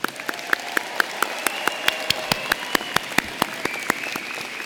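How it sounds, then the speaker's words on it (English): Audience applause for graduates at the UIC Honors College spring commencement, a steady patter of distinct claps spread across the hall with some louder individual hands standing out, moderately distant. "Please, everybody, join me in a round of applause for these graduates."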